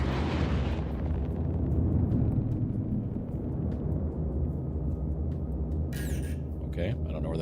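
Missiles launch and detonate in a space video game, a loud sustained roaring rumble with heavy low end that swells and lingers, ending in scattered higher electronic blips; a person talks faintly underneath.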